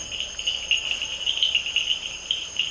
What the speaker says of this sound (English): crickets in the night